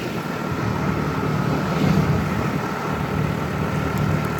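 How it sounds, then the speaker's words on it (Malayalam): A scooter carrying three riders out on an evening ride, its engine a steady, fairly loud drone mixed with rushing wind, with no voices. "നമ്മൾ 3 പേരും കൂടെ സ്കൂട്ടി എടുത്തു."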